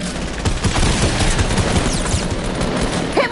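Rapid gunfire bursts from a video game, a dense, steady stream of shots sounding loud and close throughout, with no voices over it.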